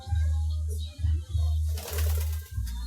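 An infertile pet pigeon coos close by in a low repeated rhythm of soft throaty calls, with a brief rustle or faint voice partway through.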